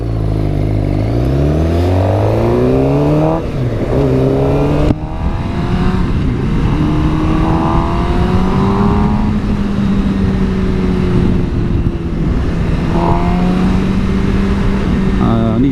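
A sports motorcycle rides past lorries on the road, its engine note rising and falling through several revving gear changes under a constant loud wind and road roar. The sound is close and continuous.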